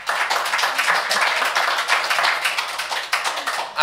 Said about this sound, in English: I'm assuming the applause is for the line when she said hired good city management.